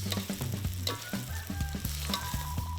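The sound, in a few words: vegetables and petai being stir-fried with shallot, garlic, chili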